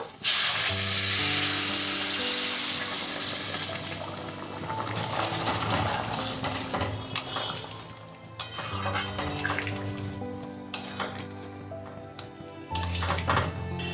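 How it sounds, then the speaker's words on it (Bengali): Hot water poured into a pan of fish curry with potatoes, a loud hissing sizzle at first that settles into bubbling, with a few clinks of utensils against the pan. "এবার গরম জল দিয়ে দেব"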